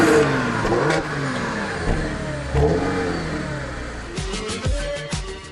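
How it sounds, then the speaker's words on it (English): Car fitted with a 3-liter TFSI quattro gasoline engine producing 220 kW, accelerating hard and revving repeatedly, with rising engine pitch, gear changes and steady road noise, heard from close by and without talking. "Time to test the more powerful of the two gasoline engines, the 3-liter TFSI Quattro with 220 kilowatts."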